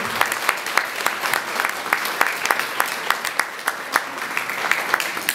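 Dense, steady audience applause at a village celebration of Poland's 100th Independence Day, ahead of a Chopin piano performance, with many close, overlapping claps and sharper individual hand strikes standing out throughout.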